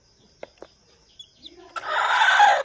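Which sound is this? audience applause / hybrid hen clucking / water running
hybrid hen clucking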